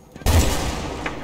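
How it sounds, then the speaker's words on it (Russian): A single heavy shot from a Barrett M95 .50 caliber rifle in Battlefield Bad Company 2 cracks out loudly and close, then rolls off into a long reverberant tail. "Хорошая винтовочка 50-го калибра, Барретт, да?"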